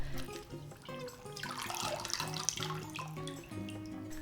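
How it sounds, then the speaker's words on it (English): Water runs steadily from a tap, splashing and gurgling as pickled mustard greens are rinsed beneath it, with faint clinks of handling. "Wash with water."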